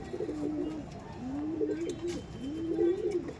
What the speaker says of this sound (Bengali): এটা দেখাচ্ছি মেল পায়রা, মেলটা দেখুন খুবই অ্যাগ্রেসিভ পায়রা